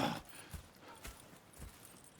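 Horses walking in the video game Red Dead Redemption 2, their hooves clip-clopping in a steady, evenly spaced rhythm, fairly quiet and close, with no talk over them.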